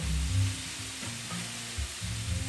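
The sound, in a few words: chicken shawarma sizzling as it browns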